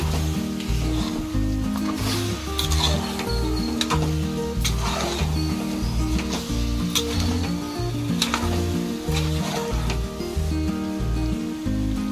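Chicken and rice frying in a pan give a steady, soft sizzle that runs under prominent rhythmic background music for the whole stretch.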